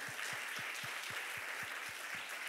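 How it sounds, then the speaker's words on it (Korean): Faint, distant applause from a youth summer camp evening worship service, a steady hiss of many hands with a regular low thumping beat running underneath. "하나님께 영광의 박수 올려드립시다."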